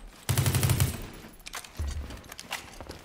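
Gunfire in the video game World War 3, a short close burst of rapid automatic shots followed by a few scattered single shots and a softer second burst.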